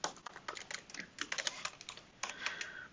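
Code being typed on a computer keyboard during a JavaScript heap sort walkthrough: a fast, steady stream of close, crisp key clicks in short bursts, with brief pauses between runs and no talking.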